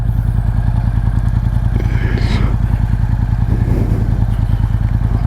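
Motorcycle engine in the video game Top Torque, a steady mid-pitched drone with a fast pulsing rhythm, loud and continuous throughout, with occasional light clatter.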